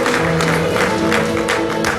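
Applause with ululation fills a church during a thanksgiving service: dense, continuous clapping and crowd noise with high trilling cries rising through it, loud and close for the whole stretch.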